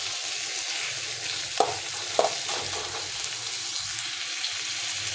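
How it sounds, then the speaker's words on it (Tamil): Tomatoes sautéing in a pan for Tamil-style egg rice, a steady close sizzle and frying hiss with a couple of sharp stirring scrapes partway through. "தக்காளி நல்லா வதங்கணும்"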